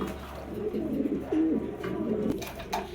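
Soft, low pigeon coos sound close by, a few short rolling calls over a quiet background hum.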